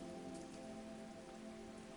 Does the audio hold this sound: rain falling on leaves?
yes